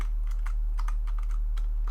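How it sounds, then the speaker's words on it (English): Computer keyboard keys are mashed during a Minecraft stream, a quick irregular flurry of close, clicky keystrokes over a steady low background hum, with no talking. "Just mash my keyboard."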